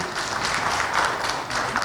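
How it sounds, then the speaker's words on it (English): An audience applauding Sussanne Khan at an event in Chandigarh, a steady wash of many hands clapping at moderate distance for a couple of seconds. "let's have a round of applause for Sussanne Khan in the house"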